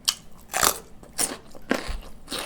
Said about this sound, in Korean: 역시 오이는 아삭아삭하니 맛있네